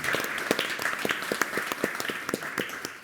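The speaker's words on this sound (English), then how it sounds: "let's have a round of applause for our speakers." Audience applause at a defence technology panel event, a steady crowd of hands clapping with sharp individual claps standing out, fairly close and sustained throughout.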